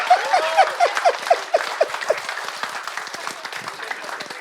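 A church congregation breaks into applause during a sermon, with a burst of scattered hand claps fading into a softer, continuing patter.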